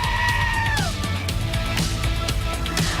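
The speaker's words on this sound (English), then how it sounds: "So the Screaming Goat arrived just in time to give that shout out" A screaming goat sound effect plays over a loud, dense background, with a wavering bleat-like scream that slides downward in pitch and then cuts off.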